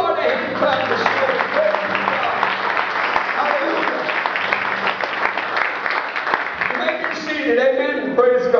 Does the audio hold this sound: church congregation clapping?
yes